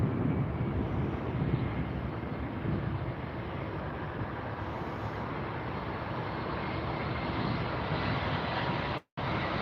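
A Boeing 787 airliner at LAX airport produces a steady, loud jet engine roar with broadband rumble and wind noise, sustained throughout before a brief drop-out near the end.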